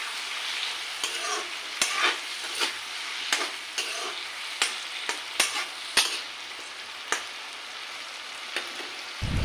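An Assamese vegetable dish sizzles gently in a pan while a spatula stirs it, scraping in irregular sharp strokes against the metal, close and fairly quiet, with no talking.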